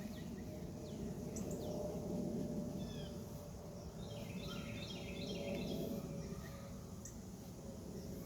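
Wild birds chirp and trill in a garden among bean plants in grow bags, scattered bright calls over a steady hum of insects and ambient outdoor noise, no talking.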